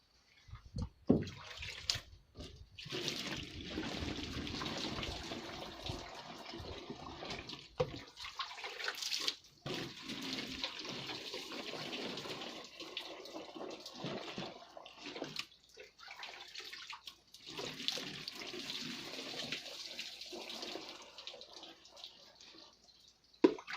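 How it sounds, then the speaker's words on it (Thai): Water pours steadily into a container for a long stretch, a continuous splashing rush with small breaks and shifts in flow, close by and without talk; it is being added while making photosynthetic bacteria culture. "ผมขออนุญาตเติม น้ำก่อนนะ ครับ"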